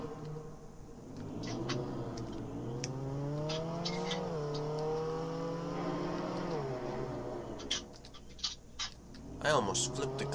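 A car in a video game drives with a steady engine drone whose pitch rises and falls through several gear-like sweeps, under quiet background sounds, with clicks and short bursts near the end.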